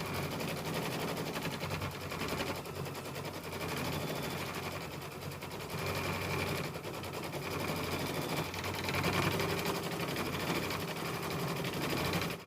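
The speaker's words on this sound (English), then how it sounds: "I just finished doing my background quilting on this block" A sewing machine stitches background quilting across a quilt block, its needle chattering in a rapid, steady run that pauses briefly a few times before resuming, close and alone.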